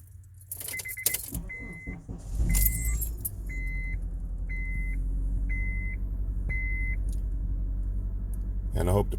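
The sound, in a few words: Honda car engine starting and running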